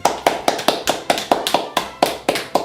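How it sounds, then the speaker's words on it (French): Hands clap in a quick, steady rhythm, about a dozen sharp claps close by, with no talking. "Allez, je vais applaudir."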